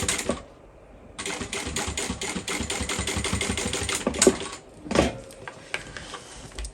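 Sewing machine stitching along the edge of a bowler bag, a rapid run of mechanical clatter that starts and stops in short bursts with small knocks between, close and fairly loud, no talk.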